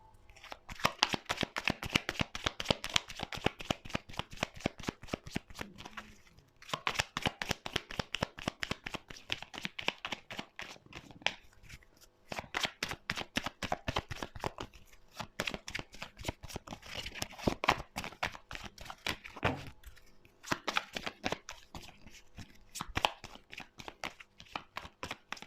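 Tarot cards are shuffled by hand in long runs of rapid, crisp riffling flutters, pausing briefly between bursts, close and steady with no speech.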